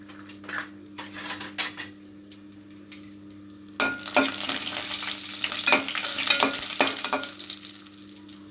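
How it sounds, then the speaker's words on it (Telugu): Cashews and dry fruits are stirred in a pan with a metal spoon for atukula payasam, with scattered scraping clinks at first, then a steady loud sizzle of frying under continued close spoon scrapes. "కాజు డ్రై ఫ్రూట్స్ వేసుకుంటున్నాను"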